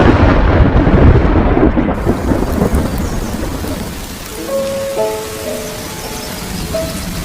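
Heavy rain pours down steadily with a rumble of thunder at the start, the downpour loud and close, followed by softer patter with faint high calls in the background.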